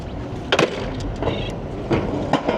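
A rental bicycle in London being docked into its station, with a few sharp mechanical clicks and clunks against light background noise, no talk.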